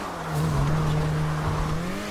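A car is driven in the video game GTA 5, with a smooth, steady engine drone that swells slightly early on. The pitch rises gently near the end, with faint tire noise underneath.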